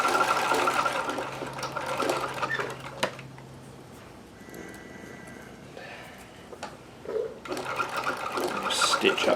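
A sewing machine runs in fast, steady bursts, stitching new elastic onto the waistband of underwear, with a quiet pause in the middle before the motor whirs up again close by.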